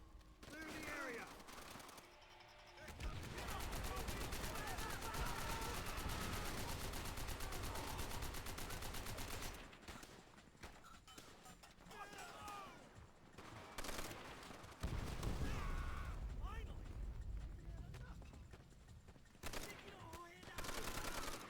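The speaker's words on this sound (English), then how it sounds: "Take aim. Open fire! Miller, man that MG." Sustained machine gun bursts and scattered shots fill a war video game battle, long loud volleys broken by short pauses, with game voices speaking over the fighting.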